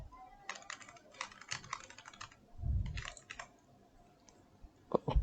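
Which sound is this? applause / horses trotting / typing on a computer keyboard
typing on a computer keyboard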